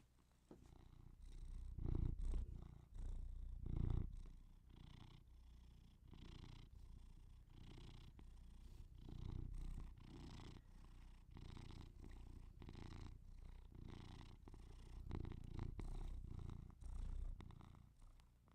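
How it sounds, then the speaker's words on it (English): A relaxed cat purrs close to the microphone, a soft, low, continuous rumble pulsing with each breath in a slow, even rhythm, with no talking. "I think a relaxed purr from a cat"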